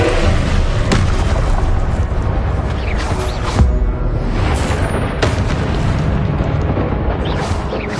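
Confringo spell blasts in Hogwarts Legacy, a loud, continuous rumble of fiery explosions and bursts with sharp cracks layered through combat noise, near and dense throughout.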